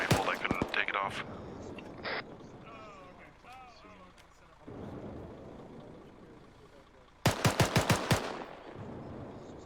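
Bursts of gunfire in the military shooter ArmA 3, sharp cracks in a quick cluster at the start and a rapid volley of loud shots near the end, with a voice talking over radio-like chatter in between.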